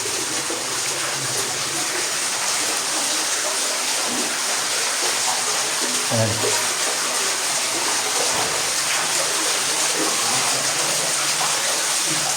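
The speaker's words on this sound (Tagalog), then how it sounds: "Ito ang pinapasokan ng tubig." Water rushing steadily into a hole dug in the ground during a treasure dig in Malungon, a loud continuous gushing roar with a brief spoken word over it.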